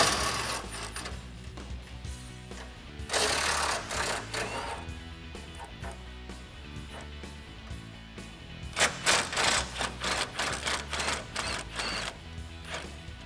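A ratchet with an 18 socket works truck bumper bolts loose on a 2014-2015 Silverado in quick repeated clicking bursts, close and moderately loud.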